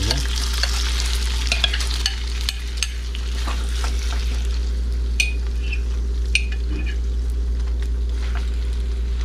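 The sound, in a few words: thinly sliced chicken frying slowly in a pan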